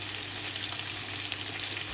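Catfish sizzling steadily in a hot frying pan while cooking for adobo, a continuous close crackle and hiss with no talking.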